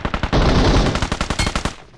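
Rapid automatic gunfire from a video game shootout in the battle royale One Man Squad, loud bursts of close shots firing in a fast, steady rhythm for about two seconds with no talking.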